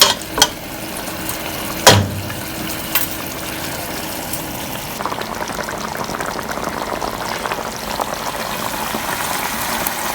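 Chicken pieces browning in a pot for a traditional French pot roast, a steady close sizzle and bubbling with a few clattering knocks early on, continuing loud and unbroken.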